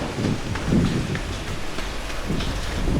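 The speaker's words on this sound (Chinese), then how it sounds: "下雨了，雨还挺大的，而且挺冷" Heavy, cold rain pours outdoors in Sapporo beside a river, a dense steady hiss of drops close by with occasional heavier patters, loud and unbroken throughout.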